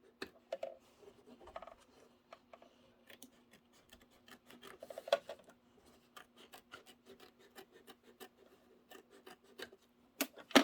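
Curved embroidery scissors trim fabric held in a hoop, producing a quiet, close series of small irregular snips and rubbing sounds over a faint steady hum.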